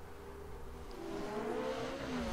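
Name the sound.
race cars starting a race in video game The Crew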